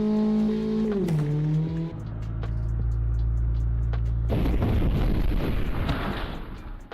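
A car in the DriveX mobile driving game revs and shifts with a loud engine drone, then crashes into harsh rumbling impact noise and scraping, all game audio with no talk.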